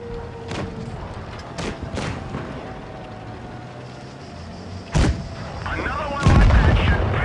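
Heavy tank cannon shots from the E 50M medium tank in World of Tanks Blitz boom out several times at irregular intervals, with a voice narrating over the battle noise.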